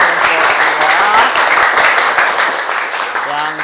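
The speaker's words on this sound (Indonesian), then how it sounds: "Tepuk tangan kepada teman-teman semua" Students in a classroom session clap for their classmates, a lively burst of mixed handclaps filling the room, fairly loud and close, with a voice briefly speaking near the end.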